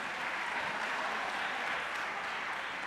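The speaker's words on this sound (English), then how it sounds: "Applaud that." An audience at a keynote closing event applauds, a dense, steady wash of clapping that fills the room throughout.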